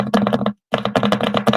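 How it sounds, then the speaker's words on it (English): Quick, loud, close clatter of computer keyboard keys in an office, a steady run of taps broken by one short pause, with no voices. "She just typing down in the computer"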